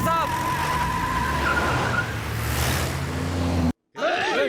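A car pulls away with a loud, continuous engine roar and tyre noise under dramatic background music, ending abruptly, then a short burst of music.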